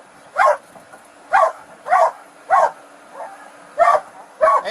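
A sheriff's office police canine barks in a steady series of loud, sharp, close barks, roughly one every half second, with a short pause midway during a felony traffic stop.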